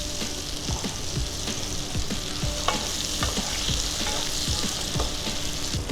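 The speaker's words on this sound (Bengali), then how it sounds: "বেগুনগুলো হালকা ভেজে নেব।" Eggplant pieces lightly frying in oil, a dense crackling sizzle with regular spatula scrapes and taps, loud and close, with no speech.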